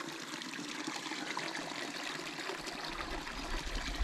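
Water trickles and burbles steadily over stones at the source of a river in a wilderness area, a close, continuous gentle stream sound with a slight low rumble near the end.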